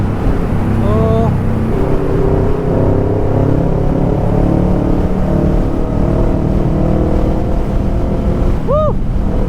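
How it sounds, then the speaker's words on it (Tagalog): A Kawasaki Ninja 650 fitted with an Orion aftermarket muffler rumbles loudly and steadily on the road while riding, a deep continuous exhaust drone with a couple of brief rising whines, close and dominant throughout. "Sarap talaga pag naka-muffler oh, kasi maririnig na tayo sa kalsada."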